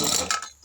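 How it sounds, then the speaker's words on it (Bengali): A pressure cooker lid closes with a short pair of ratcheting metallic clicks and scrapes, close and fairly loud, separated by a brief silent gap before a final click. "ঢাকনা চালা দিব"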